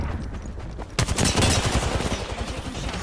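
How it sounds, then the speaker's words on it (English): Rapid video game gunfire in an Apex Legends-style shooter: after a quieter opening, a loud burst of rapid automatic shots crackles in close, repeating bursts. "I'm taking shots."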